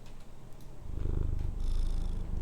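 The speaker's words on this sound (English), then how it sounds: "You gonna give them your purrs?" A cat purring close up, a low steady rumble that swells and grows louder partway through, with no talk over it.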